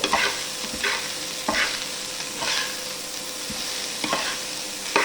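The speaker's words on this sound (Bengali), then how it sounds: "এখন কিছুটা সময় নাড়াচাড়া হবে" Food frying in a pan while being stirred, a constant loud sizzle with rhythmic scraping strokes about every second, close up.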